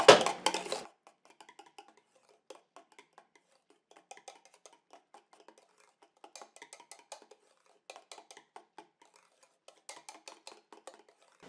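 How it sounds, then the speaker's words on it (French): A utensil stirs a homemade hair conditioner mixture in a small container, producing faint, sparse clinks and scrapes in irregular clusters after a brief louder knock at the start, with no talking. "Et je mélange."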